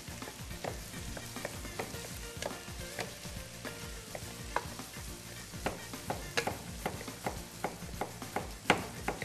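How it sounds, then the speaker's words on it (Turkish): Pumpkin and onion sizzle and fry in a pan while a utensil stirs and scrapes repeatedly, soft clattering taps over a steady quiet crackle. "Kavurmaya devam ediyoruz."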